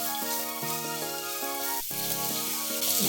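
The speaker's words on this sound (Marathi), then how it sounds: "दोन चमचे तेल पुरेसे त्याच्यावर थोडीशी पण आलं लसणाची पेस्ट मग अशी आपण थोडी घातली आहे पण थोडी आपण ह्याच्याबरोबर परतून घेऊ" Ginger-garlic paste sautés in a couple of spoons of oil, a constant close sizzling hiss that carries on alone while steady musical tones play underneath.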